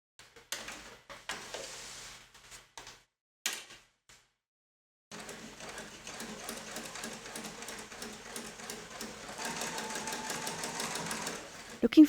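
Sewing machine topstitching the waistband of a pair of jeans, a long steady run of fast, fairly quiet stitching after a few short bursts and pauses, with a voice talking early on.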